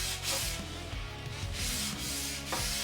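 A soft sanding sponge scrubs a Simmons wheel rim, making a steady, harsh, raspy rubbing with repeated back-and-forth strokes, close and continuous.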